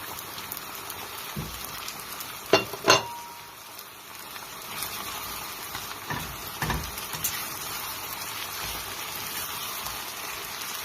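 Food frying in oil in a pan as part of a meatless dish, giving a continuous crackling sizzle with a couple of sharp metallic clinks from the pan.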